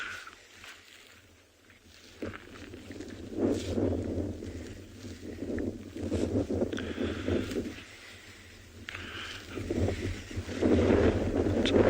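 Wind gusting outdoors on an early-morning safari in the Kalahari reserve, a loud rumbling buffeting against the microphone that surges and eases in waves with no one speaking.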